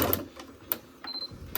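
A sewing machine stitching a fabric watch band with blue thread runs in a short burst of rapid stitching, close and fairly quiet, with no talking.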